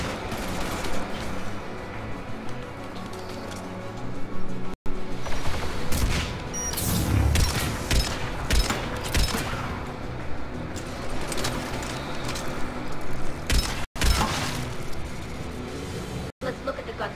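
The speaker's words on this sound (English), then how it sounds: "Geth anti-aircraft guns are up ahead." Heavy bursts of gunfire from Geth anti-aircraft guns in Mass Effect 3 pound repeatedly in volleys, loud and close, with a person talking over parts of the barrage.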